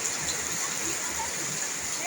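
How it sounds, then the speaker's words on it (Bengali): Rain falls in a steady, even hiss, a continuous wash of water with no clear breaks, fairly close and moderately loud. "দেখুন বৃষ্টি পড়ছে"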